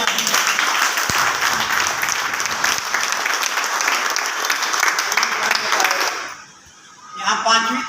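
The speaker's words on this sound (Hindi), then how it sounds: "एक बार और जोरदार तालियां" A second round of loud, sustained applause from a seated crowd at an RCM group motivational meeting fills about six seconds, then dips briefly as a voice cuts in and the clapping resumes.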